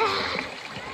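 Children splash while bathing in the shallow Wahau river in the late afternoon, a brief, close burst of water splatter with a voice mixed in.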